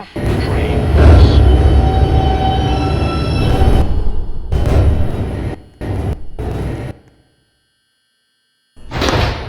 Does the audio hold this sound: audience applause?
no